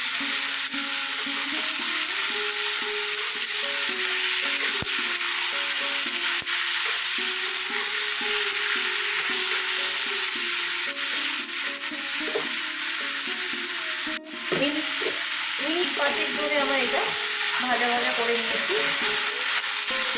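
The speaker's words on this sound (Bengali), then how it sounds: "চিকেনটা দিয়ে সমস্ত পেঁয়াজ টমেটো কাঁচা লঙ্কার সাথে একটু ফ্রাই করে নেবেন" Chicken frying in a pan with onion, tomato and green chili for a Bengali-style country chicken curry, a steady loud sizzle running throughout with scraping stirring strokes, one sharp knock partway, no talking.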